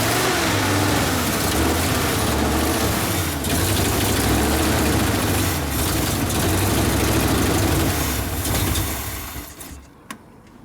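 A Chevrolet SS 396 big-block engine in an El Camino/Chevelle with a leaking carburetor, idling cold with a loud, deep, lumpy rumble close by that holds steady before dropping away at the end.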